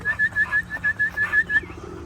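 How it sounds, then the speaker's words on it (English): Racing pigeons coo in a steady run of about eight soft, rounded calls spaced evenly over two seconds, close by, with a faint airy background and no voices. "I've been feeding my birds."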